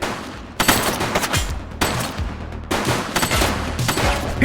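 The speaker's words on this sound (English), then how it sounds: "He's shooting!" Three loud volleys of gunshots ring out in a police game, each a dense burst of rapid shots with short pauses between, close and harsh.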